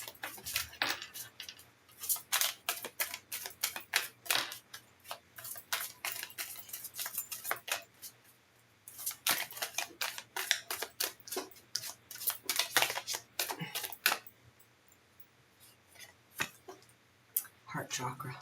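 Slippery oracle cards shuffled by hand, producing quick papery flicks and clacking bursts in uneven clusters with short pauses between them, close up and moderately quiet, with a voice speaking at times.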